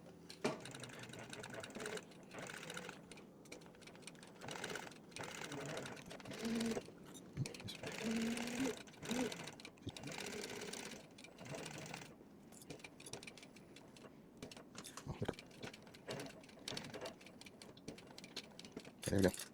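A sewing machine stitches a tree stand seat back and forth in steady runs of rapid mechanical clatter, fairly close and even, with short pauses between passes.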